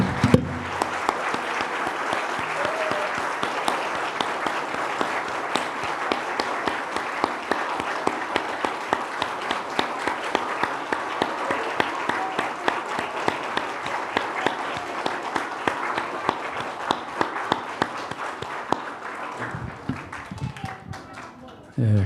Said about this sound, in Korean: 우리 축복의 박수를 한번 드리겠습니다.